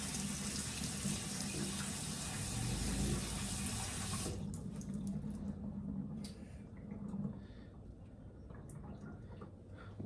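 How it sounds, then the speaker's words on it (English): Kidney beans are rinsed under a running kitchen tap, a steady rushing stream that cuts off partway through, followed by faint drips and small handling sounds. "Freshly rinsed kidney beans"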